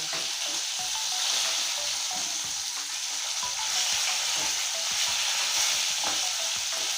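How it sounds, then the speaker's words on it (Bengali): Fish frying in oil until red and crisp gives a continuous close sizzle and hiss, with frequent small crackles and the scrape of stirring running steadily throughout. "মাছটা আমার একদম লাল লাল কড়া করে ভেজে নিতে হবে"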